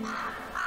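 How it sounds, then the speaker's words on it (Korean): A crow gives a single short, harsh caw on a golf course during a celebrity foursome golf tournament, clear and fairly close against steady background noise. "까마귀의 공격을 받아서"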